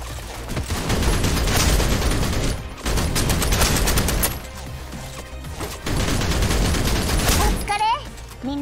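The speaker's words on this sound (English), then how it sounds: "The assault rifle." Sustained assault rifle fire in the video game Snowbreak: Containment Zone, loud dense bursts broken by two short pauses, with clashing impact and effect noises layered over the shooting.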